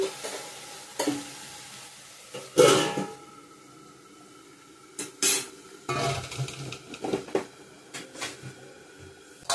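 A lid set over a pot of greens cooking with paneer and potato, heard as a few brief metallic clanks among stirring scrapes and a soft sizzle, with quiet gaps between.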